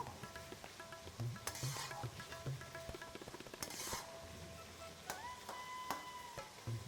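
Onion paste sautéing in a pan for pepper chicken fry, with a soft steady sizzle under repeated utensil scrapes and light taps from stirring, no talking.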